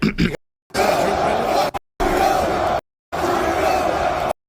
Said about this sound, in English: Joe Rogan reacts to hearing the F Trudeau chants inside the crowd